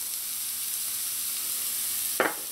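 Onion and garlic fry in a hot pan for Trinidadian fish pie, giving a soft, continuous sizzle near the pan. Near the end a brief, sharp scrape or stir sound cuts in, with no talking.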